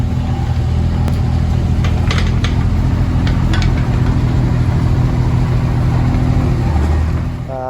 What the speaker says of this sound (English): Nearly lost the mini digger.